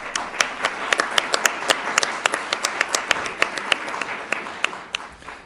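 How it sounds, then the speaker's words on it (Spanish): A small audience at a poetry anthology presentation claps, with distinct individual hand claps forming light, scattered applause that fades slightly toward the end. "Les pido un fuerte aplauso."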